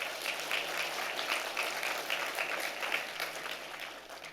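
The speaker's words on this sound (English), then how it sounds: "Another round of applause for them." Steady applause from a dinner gala crowd, many hands clapping continuously at moderate volume before tapering slightly at the end.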